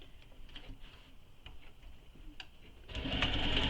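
A sewing machine back stitching a circular bag panel: soft ticking needle strokes at first, then the motor runs loud and fast in a sustained whir close by.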